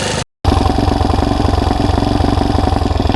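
A 150cc GY6-powered wide-stance ATV engine runs on choke, keeping up a loud, steady, close idle with a rough, uneven pulse after a brief cut at the start.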